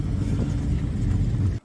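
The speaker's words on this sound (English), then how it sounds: "Looks and sounds Fordish." Ford car engine, V-body, a close low rumbling idle-to-rev burble, loud and steady, cutting off abruptly at the end.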